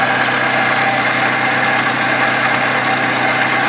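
Worn water pump on a Toyota Highlander engine, rotating steadily at idle: a continuous whirring, grinding mechanical drone over the engine's hum, up close and unbroken, with no talking.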